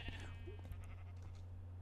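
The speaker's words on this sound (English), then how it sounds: "It sounds like he has sheep, like, behind here." Sheep bleating in Minecraft on a sheep farm, a short bleat from a few animals heard at moderate distance over a steady low hum and other game noise.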